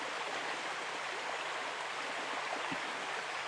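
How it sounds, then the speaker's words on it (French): A wild river in Brittany, home of brown trout, rushes steadily nearby. The broad, even flow of water continues without pause and with no voices. "C'est une rivière sauvage."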